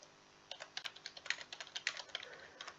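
Quick keystrokes on a computer keyboard type a short search, a burst of close, crisp clicks in an uneven rhythm with no talking.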